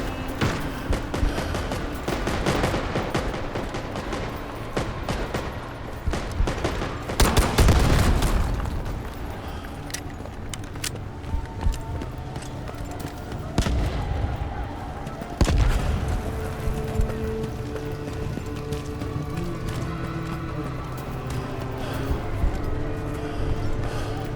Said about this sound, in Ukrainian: Напарники вже святкують пострілами.